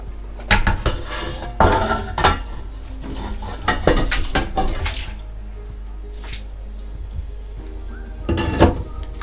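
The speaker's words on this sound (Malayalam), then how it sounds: "ഞാനിപ്പോൾ ഇതിലേക്ക് എടുത്തേക്കുന്നത് 2 കിലോ പോർക്കാണ്." Two kilograms of pork tipped into a bubbling Kochi-style vindaloo masala in a pan, with repeated loud clattering bursts of metal on cookware and wet scraping, close by and without talk.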